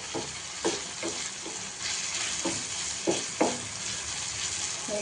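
Ragi sangati ingredients fry in oil with a steady, close sizzle, broken by several sharp stirring scrapes of a spoon against the pot.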